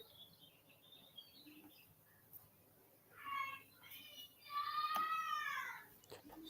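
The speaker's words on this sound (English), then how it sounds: "I paid for extra fake birds in the background today." Recorded birdsong plays in the background: faint chirps at first, then louder bursts of trilling calls, with a few scattered clicks.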